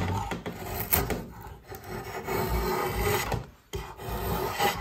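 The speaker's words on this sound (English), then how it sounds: "Draw knives, you're always skewing and slicing" A drawknife shaves facets on a wooden piece, giving a series of close, rasping slicing strokes with brief gaps between each cut, and no voices.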